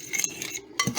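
A spoon stirs brine into breadcrumb stuffing mix in a bowl, giving soft scraping clinks in short bursts with a brief pause, close and fairly quiet.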